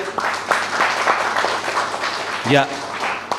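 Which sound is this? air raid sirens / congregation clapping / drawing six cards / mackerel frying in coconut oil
congregation clapping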